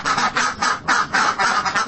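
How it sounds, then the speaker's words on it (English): A duckling gives a loud, repeated quacking, about seven rough calls in quick rhythm, close and alone without talk. "The duckling gave a loud quack."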